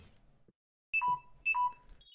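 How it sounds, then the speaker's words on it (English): Mobile phone running low on battery gives two short, clear electronic beeps in succession, close and distinct against a quiet background with faint game sounds. "Oh, my phone's dying."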